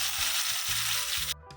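Onions sauté in a pan for fish curry, a steady, close sizzle of frying that holds loud and even before dropping away abruptly near the end, with no talk.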